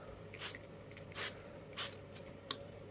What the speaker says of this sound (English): I might as well just spray it with a solution